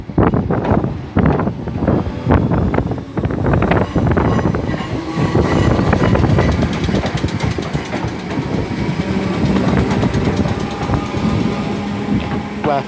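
A Merseyrail Class 508 electric train departs Chester station bound for Liverpool Central, with rhythmic clickety-clack wheel beats giving way to a sustained rolling rumble and whine, outdoors with wind buffeting the microphone.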